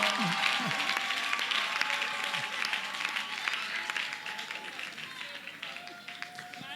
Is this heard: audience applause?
yes